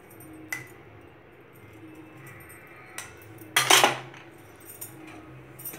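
A metal spoon clinks and scrapes against a dish while salt is mixed into raw plantain pieces for a fry, with one loud burst of rattling mid-way among lighter taps, close and without talk.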